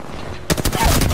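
Sudden burst of rapid automatic gunfire in a ranked video game match, starting after a quiet half second and continuing loud and close to the end.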